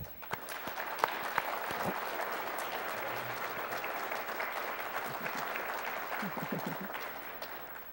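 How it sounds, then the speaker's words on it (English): Sustained audience applause fills a nurse pinning ceremony at Jefferson Community College, steady and dense clapping from a large crowd with a few sharper claps standing out, with no talk over it. "would like to give you a huge round of applause"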